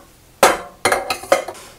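Metal pans from a favourite cookware set, a large pan used for dum biryani, clank and knock three times in quick succession, close and fairly loud with short ringing tails.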